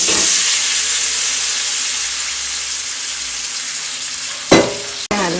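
Hot oil sizzling steadily in a pan as red chilli, mustard seeds and curry leaves are tempered for a beetroot egg fry, a loud even hiss with a sharp spatter burst and a clatter near the end.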